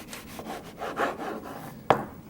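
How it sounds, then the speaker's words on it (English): Serrated knife trimming the edges of a dark cherry strudel pastry: a few quick rasping sawing strokes, close up, ending in a sharp scrape. "We'll take our serrated knife and trim the edges just a little bit."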